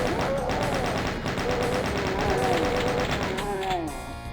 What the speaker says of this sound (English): there are 6 chain gunners on each side that have woken up